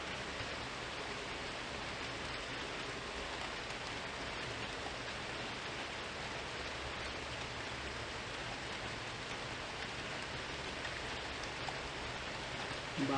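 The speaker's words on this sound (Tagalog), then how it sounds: "Lakas ulan dito." Heavy rain pours in a steady, dense hiss throughout, even and unbroken, with no voices over it.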